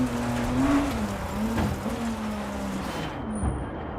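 A Group B all-wheel-drive rally car roars in a racing video game during a stage in Finland, engine note rising and shifting as it accelerates, with tire noise underneath, loud and close before it cuts off near the end.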